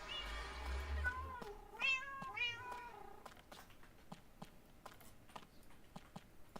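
Several short Minecraft cat meows in a video game, a cluster of rising and falling mews in the first few seconds followed by faint clicking steps, quiet and close with no talk.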